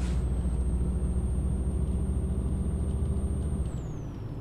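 A DAF truck driving in Euro Truck Simulator 2, a steady low engine drone with a high whine that holds and then slides downward, loud and continuous and fading slightly at the end, with no speech.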